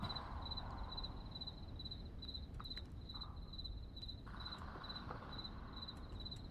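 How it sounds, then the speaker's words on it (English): Crickets chirp steadily in a nighttime scene of the VR shooter game Onward, a faint continuous pulsing trill under quiet ambient noise with no talk. "Love the sound of the crickets."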